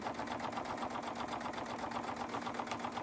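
A domestic sewing machine stitches steadily along the seam of a soft fabric cuddle cube, its motor whirring and the needle tapping in a fast, even rhythm, close and continuous with no talking.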